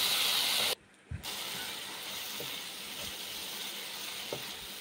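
Soaked leftover rice fries in a kadai with cashews and raisins, giving a steady, close sizzling hiss that cuts out briefly for a moment, then carries on evenly with faint scraping ticks.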